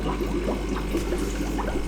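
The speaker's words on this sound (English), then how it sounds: "So the air pump is now running on the tank, and the bubbles actually aren't spraying too much" An A202 aquarium air pump runs in a freshly filled budget goldfish tank, giving a steady, close, continuous bubbling and burbling of water with no pauses.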